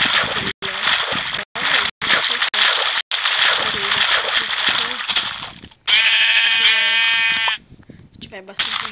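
Sheep bleats from the video game Minecraft, loud and repeated in short bursts amid game sounds, with one long wavering bleat near the end; people talk throughout.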